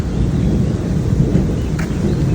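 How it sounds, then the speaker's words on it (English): Low, continuous rumbling of thunder rolls on steadily without a break in the mountains of Galicia, Spain, with a faint hiss of drizzle or wind over it. "It's just non-stop thunder right now. Just rolling."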